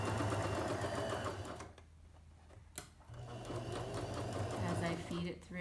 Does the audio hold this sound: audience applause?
no